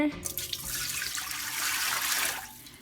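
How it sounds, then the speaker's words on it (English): Water poured into a bowl of Ethiopian steamed bread dough (hibist dabo), a steady splashing hiss that fills nearly three seconds, loud and close with no talk over it. "So I put that in there, and then we add our water."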